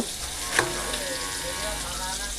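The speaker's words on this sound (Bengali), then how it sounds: "একটু ভালো করে ভেজেছি পটলটা, দেখতে কত সুন্দর লাগছে।" Pointed gourd (potol) frying in a pan makes a continuous moderate sizzle, with a brief sharp clink near the start and faint voices in the background.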